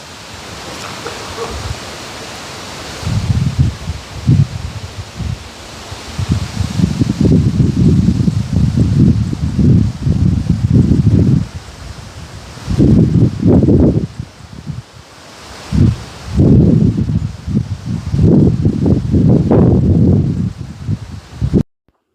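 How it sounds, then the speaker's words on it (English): Wind and rain storm around a cottage at a marina in Parry Sound, Ontario, with gusts rising and falling in loud rushing waves through rustling leaves and steady rain hiss, no voices. "it's raining, it's overcast, it's windy, the air is blowing, and just listen to the sound of nature."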